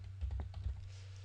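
Quick keystrokes on a computer keyboard during an Inkscape tutorial, a short soft burst of several taps over a steady low hum, close and faint, with no talking.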